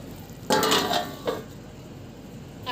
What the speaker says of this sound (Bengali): এখন আমি ঢাকনা চাপা দিয়ে দেবো